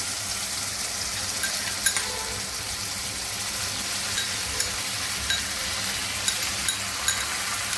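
Sour curd is added to katla fish korma frying in a pan, producing a steady, close hiss of sizzling with faint light ticks and pops throughout and no talk.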